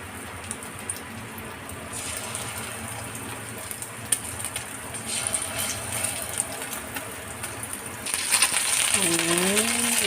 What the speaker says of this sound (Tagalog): Lagyan natin mantika.